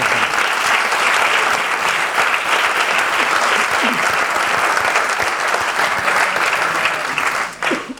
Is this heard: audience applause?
yes